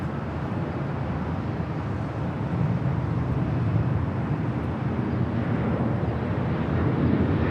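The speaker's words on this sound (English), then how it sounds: "This is Southwest Airlines 2578 taking off to Las Vegas on the MAX 8." A Southwest Airlines Boeing 737 MAX 8 takes off at LAX, heard as a loud, steady, broad jet engine roar that holds evenly throughout, with no voices.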